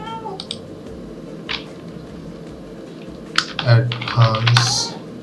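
Computer keyboard keys are tapped in short clusters of light clicks, close by, with a few louder strokes near the end over a low background hum.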